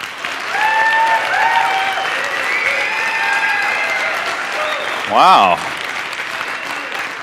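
An audience bursts into applause and cheering for Andrew at a business event, a sustained burst of clapping that carries on for several seconds, with a single voice speaking briefly near the end.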